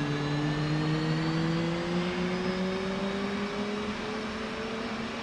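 F/A-18C Hornet jet engine spooling up during a cold start in the DCS flight simulator, a steady rising whine with climbing tones over a constant roar, loud and continuous.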